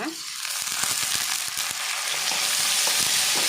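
Tomato tossed onto fried onions in a pan for egg green masala, giving a dense, continuous sizzle with a few scraping stirs close by.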